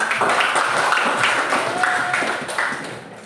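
A classroom audience claps for a group after their presentation, a steady burst of applause that slowly fades, with voices talking over it.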